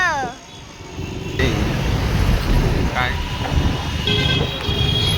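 Dense highway traffic jam with idling and creeping vehicles, honking horns and a constant roar of engines close around, under steady nearby talk.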